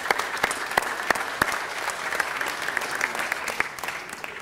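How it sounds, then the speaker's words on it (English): Audience applause at a city council meeting, a steady round of clapping with a few sharp, distinct claps standing out, running alone for several seconds. "let's give him a round of applause for all his years"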